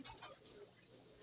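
Pigeons make a brief, faint coo with a short flutter, heard close by with no talking.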